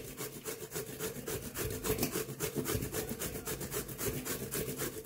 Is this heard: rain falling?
no